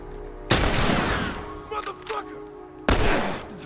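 Two loud hunting rifle shots in The Last of Us Remastered, roughly two seconds apart, each a sharp crack with a ringing decay, with brief smaller clanks and movement sounds between them.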